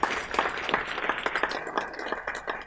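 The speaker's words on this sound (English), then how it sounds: "Please give a big round of applause for Amrita Dhillon." Audience applause at a school graduation day ceremony, a moderate patter of individual claps with distinct hand strikes standing out, fairly close and steady.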